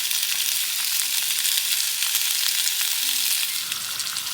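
Lardons sizzle and crackle steadily in a pan inside a tarp hot tent on a rainy night, a dense, close frying hiss with no voices.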